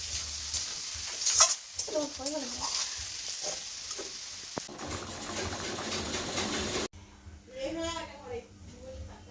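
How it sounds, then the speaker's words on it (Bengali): Katla fish curry sizzles and fries in a pan while it is stirred, with scraping and bubbling sounds, and someone talks over the cooking throughout. "এখন আমি নেড়ে নিচ্ছি।"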